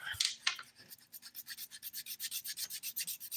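A nail file rasps rapidly back and forth across fingernails during a manicure, a close, even run of quick rhythmic strokes after a few irregular starts.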